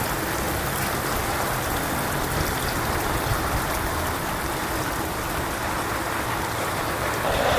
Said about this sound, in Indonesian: Ini hari ini hujan baru sekitar 15 menit